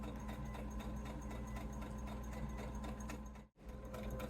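A sewing machine stitching a cat toy hums and whirs steadily and close up, with one brief dropout near the end before it runs on.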